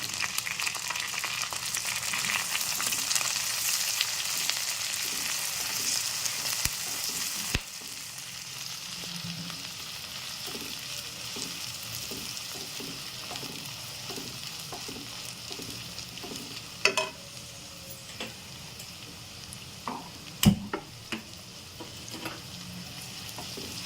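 Onions, green chillies and curry leaves fry in hot oil for Andhra-style upma, giving a steady close sizzle with occasional sharp clinks of a stirring utensil against the pan.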